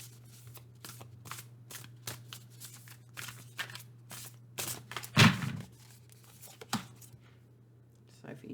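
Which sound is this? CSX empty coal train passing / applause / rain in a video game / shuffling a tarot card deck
shuffling a tarot card deck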